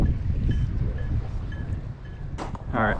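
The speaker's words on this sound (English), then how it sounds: "It's very cold and windy" Cold wind buffets a microphone outdoors while fishing in New England, a steady low rumbling gust noise that fills the short moment with a faint brief crackle near the end.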